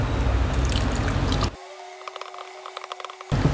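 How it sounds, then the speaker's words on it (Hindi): Water pours into a pot of thick mashed dal and meat, giving soft trickling and dripping sounds between louder sloshing stirs, close and without talking. "तो अब हम इसमें जितनी ज़रूरत होगी पानी डालेंगे।"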